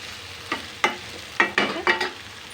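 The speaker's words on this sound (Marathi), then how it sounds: "आता वेळ आलेली आहे आपला राईस टाकायचा." Rice goes into a pan of frying vegetables and soybeans for fried rice, and a spatula scrapes and stirs in several quick strokes over a steady close sizzle.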